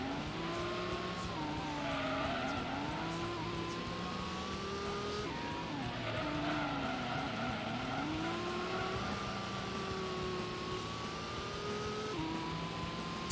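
A race car in Gran Turismo's All Night endurance race, sliding through corners with sustained tire squeal over a steady revving engine drone that shifts pitch with gear changes, continuous and close without talk.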